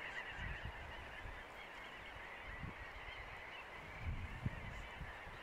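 A large flock of birds calling in flight over Arctic cliffs at Scoresbysund, Greenland: dense, distant honking and chattering that runs unbroken, steady and fairly faint, with no voices.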